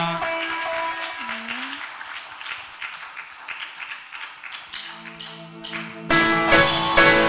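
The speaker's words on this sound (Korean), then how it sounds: "우리의 왕 되신 하나님께 영광의 박수 올려드리겠습니다." A church congregation claps during Sunday worship as a praise song ends. Scattered, rhythmic claps are heard under fading music, then a louder burst of clapping with music near the end.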